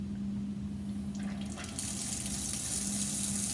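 Water rushes through filter paper under vacuum suction in a lab filtration setup, a soft hiss that suddenly bursts into a louder, steady gurgling rush once the suction kicks in.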